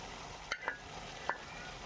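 Fried potatoes tipped into a simmering pigeon meat curry, a quiet steady hiss from the pot with a few light clinks and knocks, faint and close with no talk.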